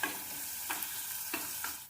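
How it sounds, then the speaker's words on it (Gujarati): Steady loud sizzling of chopped onions frying in hot tempering oil, with a few soft stirring scrapes cutting through the hiss. "વઘાર તૈયાર થઈ જાય એટલે એની અંદર આપણે જે સમારીને ડુંગળી તૈયાર રાખી છે એ ડુંગળી એડ કરી દઈશું"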